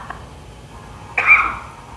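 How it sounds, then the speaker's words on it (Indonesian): A single short cough from a person, fairly close, rising out of quiet room tone. "itu saya batuk"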